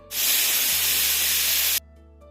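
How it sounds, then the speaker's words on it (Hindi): A pressure cooker whistle blows while dal cooks, a loud, close burst of hissing steam lasting under two seconds before cutting off abruptly. "कुकर का 2 सीटी आ चुका है"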